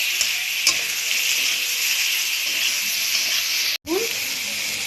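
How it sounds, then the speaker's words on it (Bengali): Fish seasoned with salt, turmeric and chili powder fries in a pan with a steady close hiss and sizzle, a few faint stirring clicks and a brief break near the end. "তারপর এটাকে একটু ভাজবো।"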